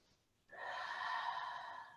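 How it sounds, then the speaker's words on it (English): A single slow, audible breath drawn in close and quiet, a breathy rush lasting over a second after a brief pause. "Breathing with sound."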